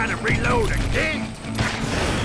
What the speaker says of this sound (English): Reload again.